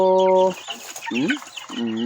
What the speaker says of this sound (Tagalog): ito yung mga munting sisiw ko